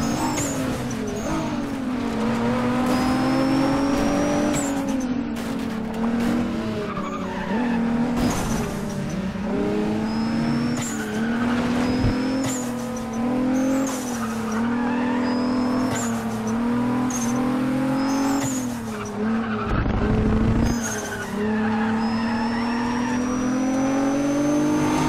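Racing cars in Need for Speed ProStreet roar and rev through repeated gear changes, engines rising and falling over and over with occasional tire squeals, loud and continuous for the whole stretch.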